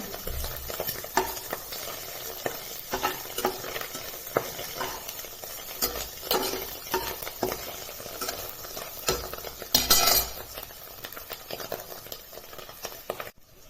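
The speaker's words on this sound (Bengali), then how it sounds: "এবার ভেজে রাখা ডিমটা ওই সবজিগুলির মধ্যে ঢেলে দিলাম দিয়ে আবার একটু ভালো করে ভেজে নেব" Egg and vegetables fried and stirred together for Bengali fried rice made with leftover rice, a steady sizzle broken by repeated scraping spatula strokes, close and moderately loud with no voices.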